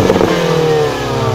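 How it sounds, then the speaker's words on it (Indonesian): A Mini Cooper John Cooper Works in mid drive mode is revved from inside, its engine rising in a loud, close roar with a steady tone and slight clattery edge, no voices over it. "Di mode mid, kalau kita gas, ini suara seperti ini."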